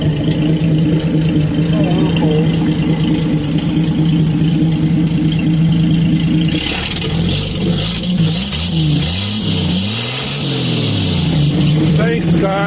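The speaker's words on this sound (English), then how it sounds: "Can you rev it up a little bit?" A 1951 Ford stock car engine at a car show idles with a steady low rumble, then revs up several times in rising and falling surges, loud and close, with crowd chatter and a voice in the background.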